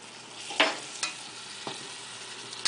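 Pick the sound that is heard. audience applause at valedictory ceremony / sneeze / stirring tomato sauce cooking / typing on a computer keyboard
stirring tomato sauce cooking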